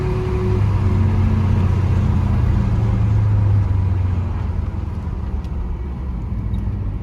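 A Chevrolet El Camino fitted with 3.73 rear gears cruises at around 35 to 40 mph, giving a steady, loud low engine rumble and road drone that eases off slightly toward the end.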